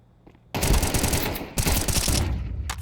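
Rapid automatic gunfire sprays in bursts during a Counter-Strike 2 match on the Mirage map, loud and close, with two sustained volleys separated by a brief pause.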